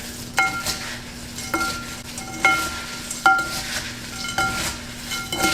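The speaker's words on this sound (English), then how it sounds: "Now I'm going to go ahead and stir this a little bit so they'll start getting coated with this mixture." Spoon stirring food in a pan to coat it in a butter mixture, with a slow run of separate clinks and scrapes against the cookware about once a second over a soft background hiss.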